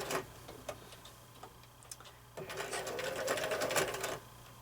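A sewing machine stitches joined quilt blocks in a quilt-as-you-go seam, running in short bursts and then a longer steady whir, close and fairly quiet with no talk.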